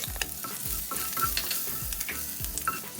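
Green chili and curry leaves fry with popping mustard seeds in hot oil as a spoon stirs them in rhythmic strokes, a loud, close sizzle with regular scraping sweeps and no voices.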